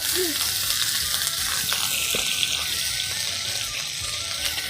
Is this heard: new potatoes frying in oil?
yes